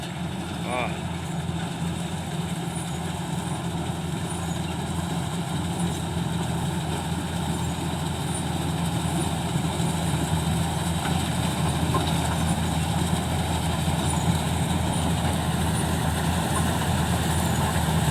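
A Kubota DC105X corn combine harvester approaches and turns, its heavy diesel engine a steady low rumble with mechanical whine throughout, while people talk over it.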